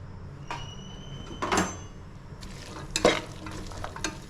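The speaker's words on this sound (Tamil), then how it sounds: "கேரட் பீன்ஸ் உருளைக்கிழங்கு பச்சை மிளகாய் இது எல்லாத்தையும் சேர்த்து இப்போ நல்லா கலந்து விட்டுடலாம்" A spoon stirs carrot, beans, potato and green chilli into a masala in a pan, with a few scraping strokes and soft sizzling in between, close and unaccompanied by talk.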